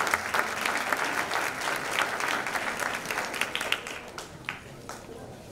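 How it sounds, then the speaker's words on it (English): A board meeting audience gives Dr. Fletcher a round of applause, many hands clapping steadily at moderate volume for several seconds, thinning slightly toward the end. "Let's give Dr. Fletcher a round of applause"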